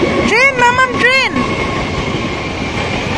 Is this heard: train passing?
yes